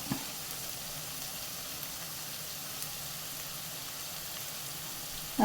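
Paneer stir-fried in a pan over high flame, about to get chili sauce, makes a soft, even, continuous sizzle that stays steady and fairly quiet, with a brief clatter at the end and no voices.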